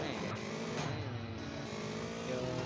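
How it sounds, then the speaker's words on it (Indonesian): A motorbike engine in an Upin Ipin video game, a continuous steady drone with a slight rise in pitch partway, mixed under background game sound and talk. "Yuk kita naik motor Ultraman Reboot yuk"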